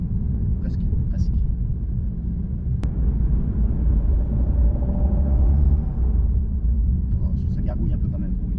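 Low rumbling gurgle of an Alpine A110 S Enstone sports car engine while driving, a steady deep drone heard from inside the cabin, with brief voices talking at the start and end.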